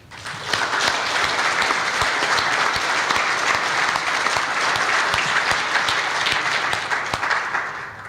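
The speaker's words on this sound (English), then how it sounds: "these people certainly deserve a round of applause" Attendees at an annual general meeting in a convention center applaud warmly, a full, continuous wash of clapping that swells quickly, holds steady for several seconds and tapers slightly at the end.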